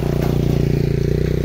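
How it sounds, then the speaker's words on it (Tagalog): A motorcycle engine chugs close by in a rapid, even pulsing rhythm, loud and steady over a short moment on a road. "Ay mga motor."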